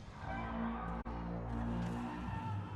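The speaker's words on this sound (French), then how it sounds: "Ça, c'est le son des tripodes dans la guerre des mondes." The tripod sound from the New World video game, styled after the War of the Worlds machines: a loud, sustained, droning low blare with layered harmonic tones, broken by one brief dropout.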